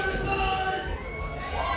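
A crowd at the SASL Titan Fight Night event in George, South Africa, cheers and shouts continuously. The roar is loud and dense throughout, building up as a fighter riles the spectators.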